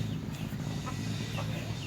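A Bangkok rooster with a snoring respiratory ailment gives soft, brief clucks while being treated, heard close and faint over a steady low background hum.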